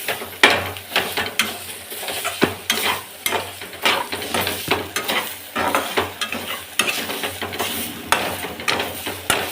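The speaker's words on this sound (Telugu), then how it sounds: "ఇక్కడ కాకరకాయ ఫ్రై కూడా వేగుతుంది. ఇంకా బాగా వేగాలండి, ఫ్రై అవ్వాలి." Bitter gourd fry sizzling in a pan, with a steady crackling sizzle broken by repeated scraping stirs of a spoon against the pan, close and fairly loud, with no voices.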